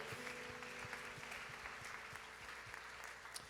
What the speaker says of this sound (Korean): 주님 앞에 감사의 박수를 올려드립시다.